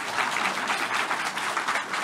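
Steady applause from an audience at a spiritual lecture fills the clip, a dense continuous patter of many hands clapping at close range with no voices above it.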